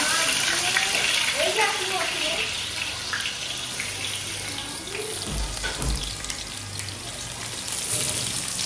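Onions fry in hot oil in a pot for homemade biryani, giving a steady, close sizzling hiss throughout with a voice talking over it.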